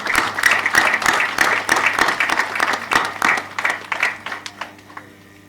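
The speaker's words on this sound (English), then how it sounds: "a big round of applause to all of you" Applause fills an auditorium at an awards ceremony honouring participating companies: steady, fairly loud clapping from the audience that thins into scattered individual claps and fades out near the end.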